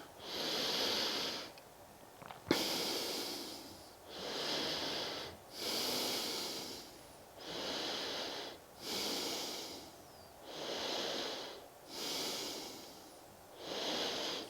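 Slow, steady yoga breathing during a twisting lunge in a morning sun salutation sequence, with seven or eight long, audible breath cycles close to the microphone, rising and falling in an even rhythm with no talk.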